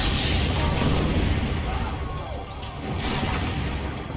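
Cannon fire from a siege battle in Assassin's Creed: Brotherhood, dense and continuous booming blasts and crashing impacts that fill the whole stretch, loud and close with no pause.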